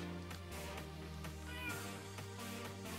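A person imitates a cat's meow in a drawn-out, whiny tone during a Minecraft Block Hunt mini-game, heard alone against a steady musical background.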